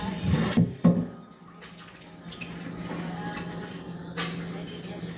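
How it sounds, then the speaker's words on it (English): Tap water runs into a kitchen sink as vegetables are rinsed, a steady hiss with a couple of louder splashy bursts near the start and a brief rise near the end. "Let me go ahead and wash this off."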